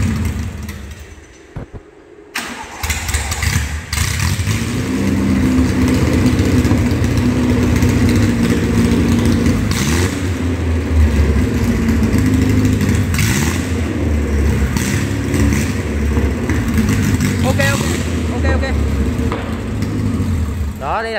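An engine with its exhaust pipe removed runs loud and close, idling roughly and revving repeatedly with a raw, unmuffled roar; voices can be heard faintly beneath it.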